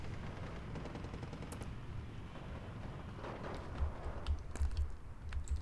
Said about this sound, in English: getting hit by artillery and tank shells